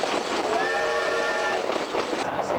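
A train runs on rails with a continuous loud rumble and a rhythmic clatter of wheels, and a faint tonal whine rises partway through.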